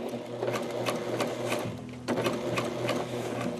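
Sewing machine fitted with a rolled edge hemmer foot stitching fabric, a fast close mechanical chatter in rhythmic bursts with a brief restart partway through.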